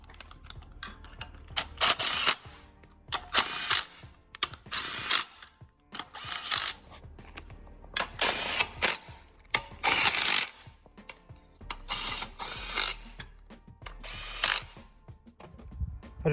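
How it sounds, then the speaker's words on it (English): A ratchet wrench loosens flywheel bolts on a Silverado engine, giving repeated bursts of rapid clicking separated by short pauses, loud and close. "I just took out all of the flywheel bolts"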